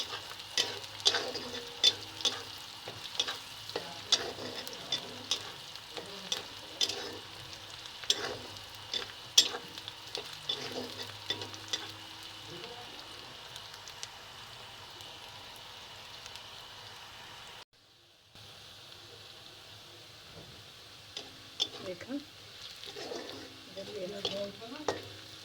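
Red lentils frying in hot oil in a home kitchen pan, a steady soft sizzle broken by frequent stirring scrapes, with a brief quiet gap before the frying resumes; no voices.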